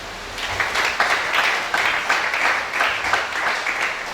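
A church congregation claps for Jesus during a worship service, with steady rhythmic group applause at moderate volume and a faint reverberant room sound.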